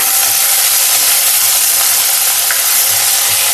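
Okra and tomato sautéing in hot coconut oil for Onam sambar, giving a steady, even sizzle and hiss that runs unbroken throughout with no talking.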